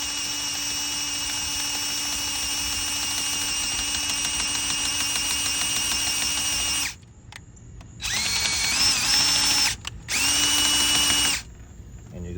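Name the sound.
drill enlarging a hole in a copper battery terminal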